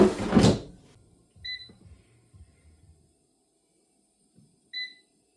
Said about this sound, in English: So I'll set the air fryer going for 30 minutes.